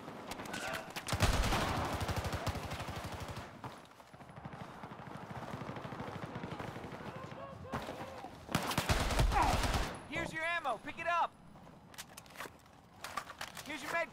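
An RPK machine gun in Battlefield 4 fires in rapid bursts during an Operation Locker match, with loud sustained volleys early and later, separated by quieter gaps, while someone talks over parts of the action.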